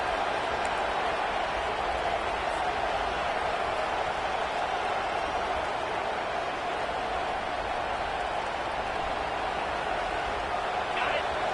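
A big college football stadium crowd roars steadily and loudly, a dense, unbroken wall of noise that holds for the whole stretch.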